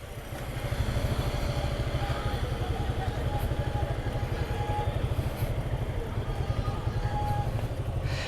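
A motorcycle engine sputters and chugs with a rapid, steady rhythmic pulse as the bike is pushed to try to start it. The engine noise is continuous and moderately loud, with faint background noise.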